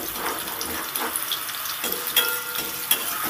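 Taro pieces frying in oil as they are stirred, with a dense sizzle and scattered sharp scraping clicks from the spatula, close and moderately loud, no talk.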